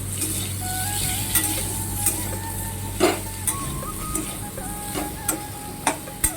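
Tomato and spices are stirred into cabbage frying in a pan, a soft continuous sizzle broken by a handful of sharp utensil scrapes and taps against the pan.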